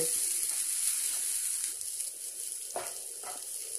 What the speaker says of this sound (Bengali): রাঙা আলুগুলো ভাজা হয়ে গেছে